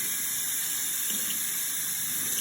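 Tap water runs steadily into a kitchen sink while a sprouting jar of alfalfa seeds is rinsed, a continuous close hiss of flow with no talking.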